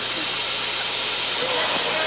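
A steady, loud hiss of escaping steam from a steam train fills the clip, constant and close.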